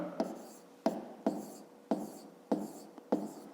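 A pen writing numbers by hand on paper makes six short, evenly spaced scratchy strokes, each a quick onset fading over about half a second, close and quiet with no talking.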